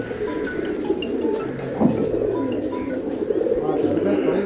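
Racing pigeons coo in a loft, low throaty calls repeating beneath people talking nearby, fairly close and steady throughout.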